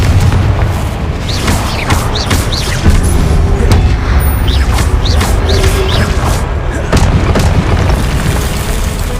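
Confringo fire spells going off in the video game Hogwarts Legacy, a loud, dense run of booming blasts and whooshing bursts layered over a constant rumbling game soundtrack with no talk.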